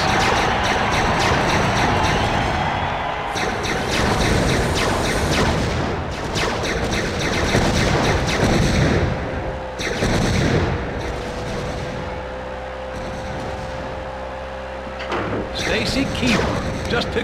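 Laser-guided rockets firing in the wrestling vehicle-combat game WWE Crush Hour, a dense run of loud blasts and bursts mixed with engine noise and game effects, with a commentator talking over them.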